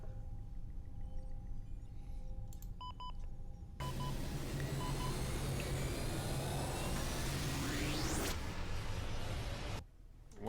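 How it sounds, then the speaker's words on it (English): Beeping inside a spaceship video game: a few short electronic beeps and tones come first, then a loud rushing whoosh with a rising sweep fills most of the clip before cutting off, with no talking. "Why is it beeping?"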